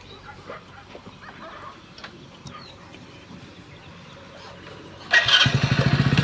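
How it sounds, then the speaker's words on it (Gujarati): A motorcycle engine starts abruptly near the end after quiet outdoor ambience, then settles into a loud, close, pulsing idle. "લેડો તમારે બાઈક લઈ લો તાણ"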